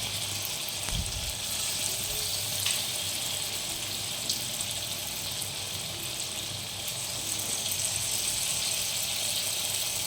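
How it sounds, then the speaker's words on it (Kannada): Egg manchurian fries in oil over a low flame, a steady gentle sizzle and crackle holding at an even level with a few faint clinks. "ಲೋ ಫ್ಲೇಮಲ್ಲೇ ಇಟ್ಟು ಮಂಚೂರಿ ಮಾಡ್ತಾಯಿದ್ದೀನಿ."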